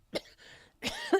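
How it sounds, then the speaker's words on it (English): A person coughs in a couple of short, harsh bursts, the second rougher and strained, close and with no talking. "You start coughing uncontrollably."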